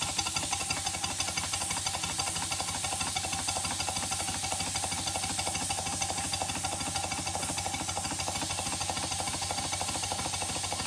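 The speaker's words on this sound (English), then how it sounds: "I run the engine, and the louder the knocking gets" A twin-cylinder Stuart 5A model steam engine runs close by with a steady, rapid knocking from a fault that repeats evenly throughout, with no talking.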